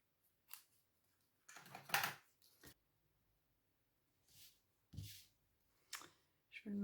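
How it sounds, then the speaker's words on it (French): Scissors cut paper for a stencil birthday card in a few short, separate snips and crisp rustles, close and fairly quiet, with pauses of near silence between them. "je coupe."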